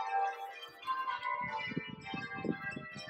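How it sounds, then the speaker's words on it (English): Church bells ringing in the English village of Edensor, near Chatsworth House, faint and distant, with tonal peals over soft low clatter. "as you can hear, the bells have just started"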